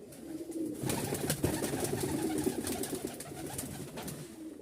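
Pigeons coo repeatedly at close range in a loft, a hen in a new cramped spot among them, soft throaty calls continuing throughout alongside scattered shuffling and background noise.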